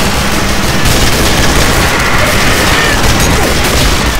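Dense, continuous gunfire and booming blasts in a video game, all aimed at a train, loud and unbroken throughout with no pauses.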